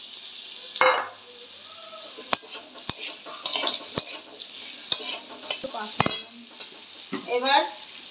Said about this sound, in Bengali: এবার একটু ভাজা ভাজা করে নিয়েছি, বেশি ভাজবো না, হালকাই ভেজেছি।